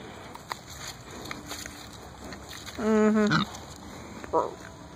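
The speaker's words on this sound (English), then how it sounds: "Hey, goats. Hey, goats. Hey, piggy." Goats and a pig on a farm: one loud, drawn-out harmonic bleat or squeal stands out close by, followed later by a short grunt, over steady outdoor background noise.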